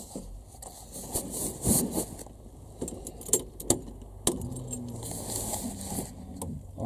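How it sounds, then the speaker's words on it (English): Keys jangling close by as the ignition key of a Honda Civic EF is turned on, with several sharp metallic clicks and rattles over a quiet interior background, no talk. "if I flick the ignition on"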